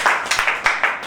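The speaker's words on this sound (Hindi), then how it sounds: "हमारे लिए ताली बजाओ।" A crowd at a Jain temple gathering in Vivek Vihar claps in a quick, even rhythm, about five sharp claps in just over a second, fairly close and loud.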